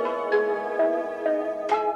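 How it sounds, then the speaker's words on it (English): A modern trap beat melody sample with airy bell tones, four bright chiming notes struck about every half second over a sustained harmonic pad, played alone. "It sounds like this could be a trap beat."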